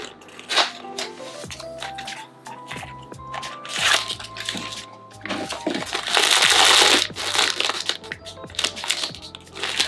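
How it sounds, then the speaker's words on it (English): A Sonny Angel blind box package is torn and popped open, giving close, loud bursts of crinkling and crunching foil and cardboard with sharp cracks and rustles throughout. "I'm gonna pop it."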